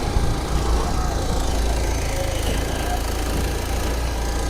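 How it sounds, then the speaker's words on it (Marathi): A motor boat engine drones steadily during a boat ride, a continuous low rumble with faint vibration filling the whole stretch, no clear speech over it. "तर मित्रांनो बोट राईड आमची चालू झालेली आहे."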